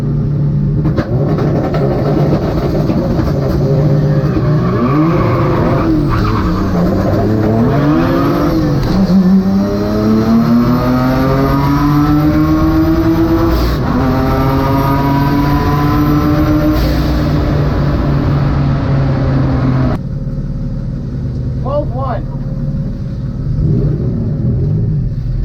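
A twin-engine drag race car makes a fast pass, its engines roaring loud with rising, shifting pitch as it accelerates hard, then easing lower near the end, with no voices.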